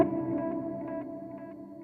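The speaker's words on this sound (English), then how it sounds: "now you can hear the delay has a bit of reverb on it" Sustained keyboard tones run through a delay effect with a reverb send, giving a lush, echoing wash with soft repeats that slowly fade over about two seconds.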